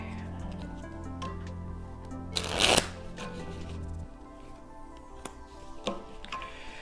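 Tarot cards are riffled and shuffled in a quick burst, followed by softer shuffling and light taps, with faint background hum.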